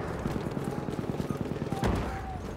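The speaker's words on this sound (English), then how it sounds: "There's gunfire with no enemies" Rapid bursts of gunfire in the video game Battlefield 1 crackle in a quick repeating rhythm, fairly faint, followed by a sharper blast, with someone talking at moments.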